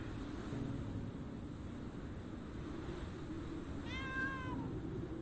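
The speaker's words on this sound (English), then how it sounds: "Max meows at Annie, then run away." A single short cat meow from a video game, rising and falling over about half a second, heard once over a steady windy, surf-like ambient background with no talking.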